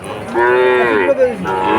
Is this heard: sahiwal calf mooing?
yes